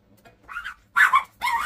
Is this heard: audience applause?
no